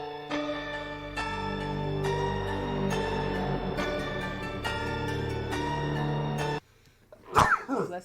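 A single loud sneeze bursts out near the end, just after sustained music cuts off abruptly, close to the listener.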